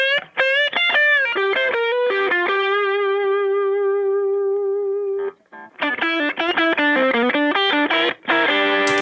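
Distorted electric guitar played through a compressor during mixing, with the compressor bypass switched in and out; loud sustained notes and chords, a brief near-silent break midway, then busier riffing, with no talking.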